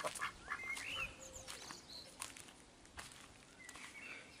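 Tired ducks around a backyard pond give a few scattered, fairly close quacks and calls over steady outdoor background noise, with chirping birds mixed in.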